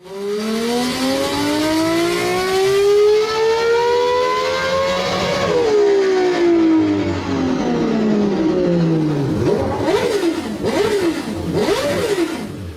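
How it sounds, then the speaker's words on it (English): Zacaria SC, a hand-built, road-legal, F1-inspired supercar with exhausts exiting through the aero on each side, revving loudly: a long rising howl that drops away, then several quick sharp blips, close and alone. "the exhaust comes out of the aero on either side of the car, and it sounds even more amazing"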